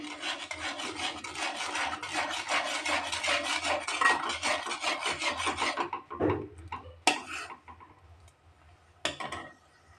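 A spoon scrapes and stirs ghee into kaju katli cashew sweet mixture in a pan: steady rapid rasping strokes for several seconds, then slower, sparser scrapes and clinks, close and clear.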